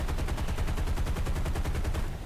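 A B-17 bomber's machine gunner fires at ground targets in War Thunder, a fast continuous burst of loud, evenly spaced gunshots hammering away without pause for over two seconds.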